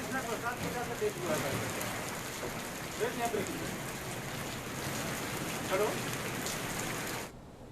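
Steady rain falls during Cyclone Yaas in Uttar Pradesh, a dense even hiss of drops on surfaces running throughout, fairly close, with a faint murmur of voices underneath before it cuts off abruptly near the end.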